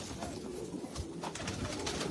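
Pet pigeons or doves cooing inside a bird shop, soft repeated coos over steady background noise at moderate distance, with no speech.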